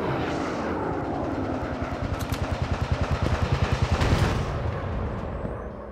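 A WW1 fighter plane's machine gun fires in the Warplanes game, a rapid, evenly spaced stutter of shots over a continuous engine drone at moderate loudness.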